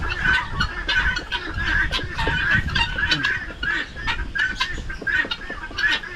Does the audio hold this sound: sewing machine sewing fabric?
no